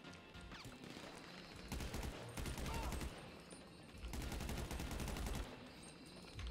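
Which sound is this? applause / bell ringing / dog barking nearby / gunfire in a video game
gunfire in a video game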